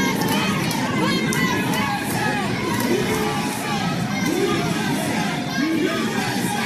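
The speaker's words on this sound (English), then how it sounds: "You hear a crowd chanting USA" A large crowd chanting "USA" in a loud, dense roar that swells rhythmically, with shouted voices rising and falling throughout and no clear pauses.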